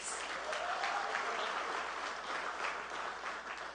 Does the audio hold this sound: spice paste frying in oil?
no